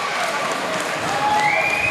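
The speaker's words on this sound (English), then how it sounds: "as Greg soars with a suicide dive. And that gets the crowd on their feet" Wrestling crowd cheering and clapping after a suicide dive, a loud, dense roar that lifts further midway, with a rising whistle cutting through near the end.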